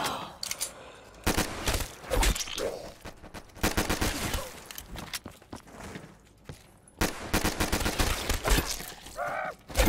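An MP40 submachine gun fires in Call of Duty Zombies, sounding as loud, rapid bursts broken by short pauses, with faint game noise between volleys.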